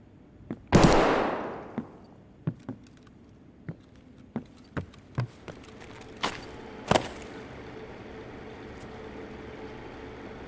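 Gunshots in the video game Escape From Tarkov: one loud close shot followed by a string of scattered, sharper and more distant single cracks at irregular intervals.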